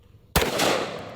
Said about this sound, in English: I'm gonna be loaded up with some 500 Smith & Wesson Magnum 350 grain jacketed hollow points.